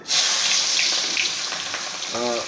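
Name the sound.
chopped onions sizzling as they fry in hot oil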